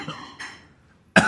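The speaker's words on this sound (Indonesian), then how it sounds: "Aduh batuk." A single sharp, loud cough bursts out at the end, after a few faint breathy throat sounds.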